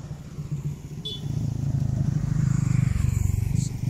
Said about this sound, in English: So this is the corn sheller.